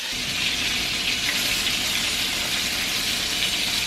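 Salmon fillet frying skin-side down in a hot pan, with a steady, dense sizzle and crackle of oil that holds evenly throughout at close range, no voices.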